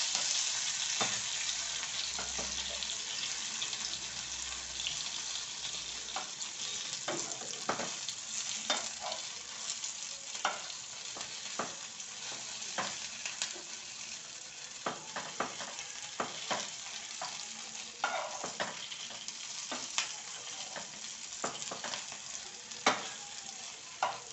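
Stuffed green chillies cook in a pan over a medium gas flame with a continuous close sizzle and frying hiss, broken by frequent light stirring scrapes and taps.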